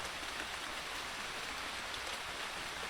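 Wind-driven rain falls steadily in the countryside, an even, continuous hiss of drops with no voices or other sounds.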